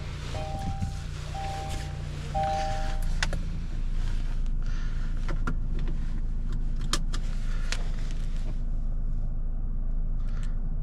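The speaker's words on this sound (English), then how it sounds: "Alright, let's start it up." A Kia K5 car starts up, with short chimes at first, then a steady low engine hum settling in, joined by faint clicks and rustling inside the cabin.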